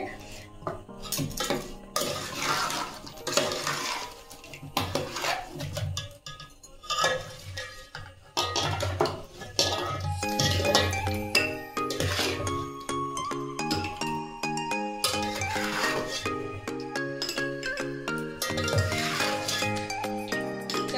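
Mango pickle is spooned and poured into a glass jar, with a busy run of clinking, scraping and tapping of utensil against glass and metal throughout, layered over dense background music.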